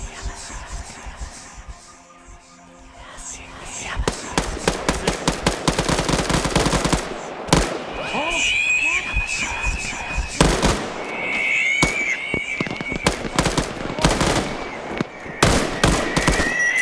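Rapid bursts of automatic gunfire and single shots in an SCP multiplayer video game, with dense, loud volleys and pauses between them and a faint voice underneath.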